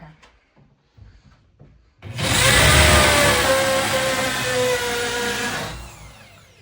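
After a few quiet knocks, a power drill whirs loudly into wood for about four seconds, then spins down.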